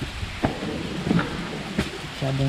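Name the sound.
heavy rain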